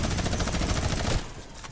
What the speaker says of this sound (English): Wait, I have Tommy gun, I can shoot from there.